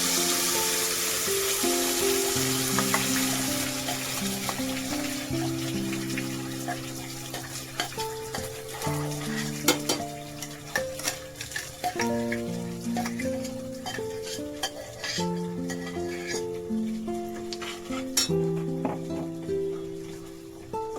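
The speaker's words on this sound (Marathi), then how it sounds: "सगळा मसाला टाकूया छानपैकी परतून घेऊया" Ground masala sautés in a pan with a soft, continuous sizzle and occasional utensil taps, partly covered by melodic background music.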